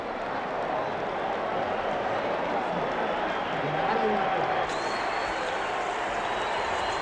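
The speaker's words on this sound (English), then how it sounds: "Just listen to the noise of this crowd." A large boxing arena crowd roars in a dense, continuous wash before the Ali versus Frazier fight, with scattered clapping and voices blending into the steady din.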